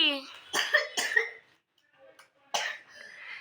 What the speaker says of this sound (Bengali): কাশি উঠে গেছে গো কাশি উঠে গেছে কাশি প্রচন্ড কাশি